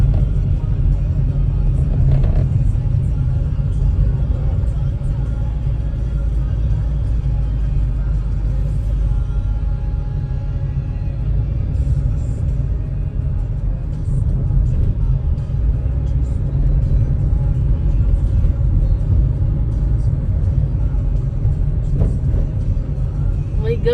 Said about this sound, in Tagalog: Ang ingay na sasakyan.